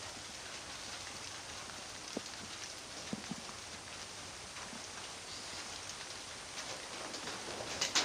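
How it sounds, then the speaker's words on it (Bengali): Rain falling outdoors, a quiet, even patter of drops with occasional sharper taps, steady throughout and growing slightly louder near the end. "ভালোই বৃষ্টি পড়ছে এখন"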